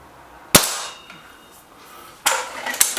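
An air rifle fires pellets at a target, two sharp close cracks about two seconds apart, the second followed by a faint metallic tick, with quiet room tone between.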